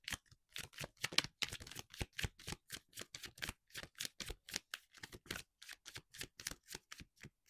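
Tarot cards are shuffled in a quick, even rhythm of soft slapping riffles, a fairly quiet, close sequence of dozens of short card strikes with no voice over them.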